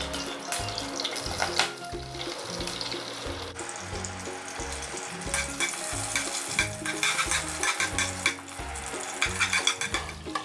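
Cinnamon, cloves and cardamom sautéing in ghee for ghee rice in a home kitchen, a close, lively sizzle with rhythmic scraping and stirring strokes and a brief stretch of running tap water.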